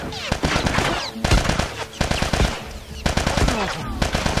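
Rapid bursts of gunfire from The Last of Us, loud close shots in quick clusters with short pauses between volleys, under a faint voice.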